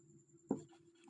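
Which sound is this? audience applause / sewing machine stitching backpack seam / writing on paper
writing on paper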